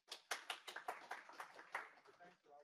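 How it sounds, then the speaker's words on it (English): Brief burst of audience clapping at a tech talk on Angular, a quick run of sharp claps that thins out over a few seconds while the crowd murmurs underneath. "Appreciate the applause."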